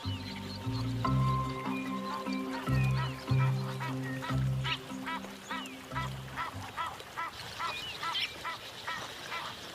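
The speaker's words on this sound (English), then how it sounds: "A pair of Egyptian geese forages on aquatic plants growing in a stream." Egyptian geese by a stream honk and cackle in repeated harsh calls, starting with deep bursts and then quickening into a rapid chattering series close by.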